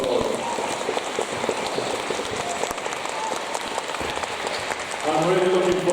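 Audience at a harvest festival giving a round of applause, dense steady clapping that carries on for several seconds before a voice starts speaking near the end.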